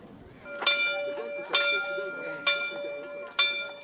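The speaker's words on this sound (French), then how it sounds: "La cloche de la chapelle sonne, donnant le signal du regroupement des bannières du Queyras et de l'Ubaye." A chapel bell rings at the Lac Sainte-Anne pilgrimage in the mountains, four clear, resonant strokes spaced about a second apart, each ringing out and fading under the next.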